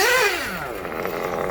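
Kyosho Inferno Neo 2.0 RTR nitro buggy with a stock Kyosho KE21 engine and Dynamite 053 exhaust, revving high then dropping in pitch as it passes, a loud close buzzing whine settling into a steady rasp.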